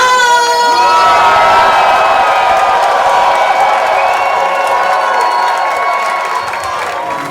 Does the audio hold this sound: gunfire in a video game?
no